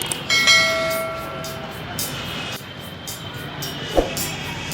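Local train pulling into Dakshineswar railway station in Kolkata, a loud steady rolling rumble with a sustained whine of brakes or motors early on and a sharp clank near the end, with faint voices around.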